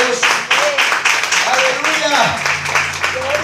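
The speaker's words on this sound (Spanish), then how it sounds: "Den un aplauso al Señor." Church congregation applauding during a Spanish-language sermon, steady dense clapping throughout with voices and a sung or called line over it.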